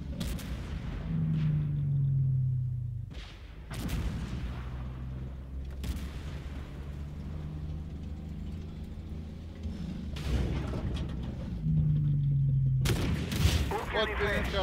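Tank cannon rounds of HEAT explosive shells fire in the Armored Warfare video game, with several heavy booms and rumbling engine drone spread across the stretch, while someone talks over the action.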